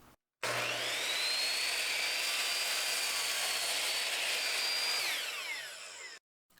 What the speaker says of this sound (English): And then I can just cut my mold.